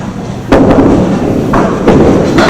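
A candlepin bowling ball crashes into the wooden pins for a spare, giving a loud clattering burst followed by further knocks and tumbling pins, close and sharp with no voices.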